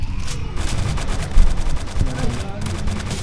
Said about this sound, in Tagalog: Rocket launcher pala to eh